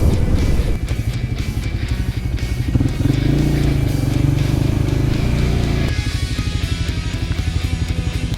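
A Loncin Voge LX300GY motorcycle being ridden on a road trip, its engine droning loud and steady up close with a rhythmic throb, pitch shifting slightly as it changes speed.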